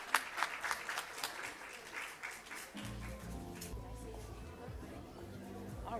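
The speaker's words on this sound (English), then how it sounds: "Let's give the author another round of applause." An audience at a literacy symposium in Newark applauds an author, a burst of claps that gives way to murmured chatter and other talk in the room.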